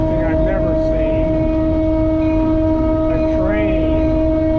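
A train rumbles past close by, its horn blaring in long, loud, sustained blasts over the steady roar of the rail cars.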